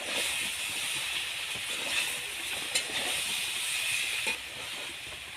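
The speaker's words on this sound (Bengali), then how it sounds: "সয়াবিনের সাথে আমি আলুগুলোও ভেজে নেব।" Soybean chunks and potatoes fry in mustard oil, a steady close hiss and sizzle with faint spatters throughout.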